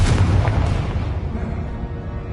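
A Confringo fire spell explosion in Hogwarts Legacy, a loud booming blast at the start that rolls off into a decaying rumble.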